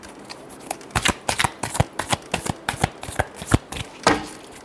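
A deck of cards shuffled during a tarot reading, a quick series of crisp riffling flicks and taps in an uneven rhythm, close and clear with no talk over it.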